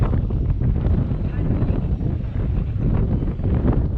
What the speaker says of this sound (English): It's just a windy day.